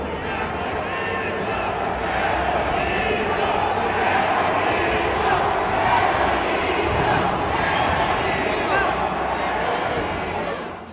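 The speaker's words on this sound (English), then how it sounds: "And the crowd is right there with it." A large crowd at fights in Mexico roars and cheers without a break, a loud, dense wall of voices holding steady for the whole stretch.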